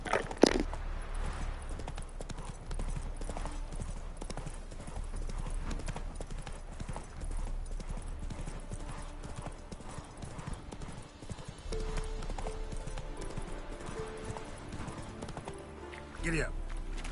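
Horse hooves clip-clop steadily through the whole stretch in The Witcher 3: Wild Hunt on PS5, with a brief neigh near the start and end, under game music and someone talking.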